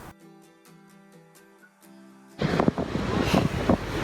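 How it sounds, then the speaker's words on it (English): Strong wind on the beach at the Moeraki Boulders roars and buffets the microphone in loud gusts through the second half, after a quieter musical opening; no talking. "It's super windy out here, so this audio might not even be audible."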